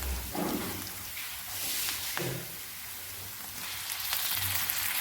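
Golden fried onion sizzling in a pan for a chilli relish, a faint, steady crackling hiss with a few soft stirring thumps, heard close and without speech.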